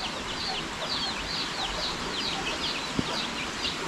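A hen on a Philippine backyard farm clucks in a steady repeated run after a monitor lizard raided the nesting boxes, with one sharp knock near the end over constant outdoor noise.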